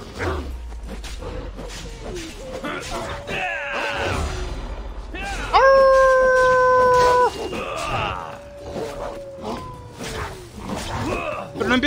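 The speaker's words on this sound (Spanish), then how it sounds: "Pero no empiezas a aullar, si no aullarán los demás." Wolves howling in the game Assassin's Creed Odyssey, several long rising and falling howls over game combat noise, with someone talking over parts of it.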